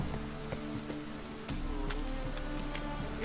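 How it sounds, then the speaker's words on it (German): Steady rain in the video game The Witcher 3, a continuous hiss with scattered drip-like ticks and faint game tones, close and even throughout. "Hat nicht nach Regen ausgesehen. Ja, es regnet aber."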